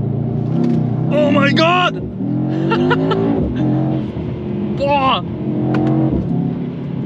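Loud 2022 Mercedes-AMG E63 S race start: the engine revs hard through rising, sweeping gear pulls with high turbo whistle, close and continuous, while occupants exclaim over it.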